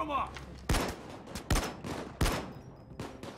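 Gunfire in the heist video game Payday 2 cracks in three sharp, evenly spaced shots with fainter bursts between, over a quiet background.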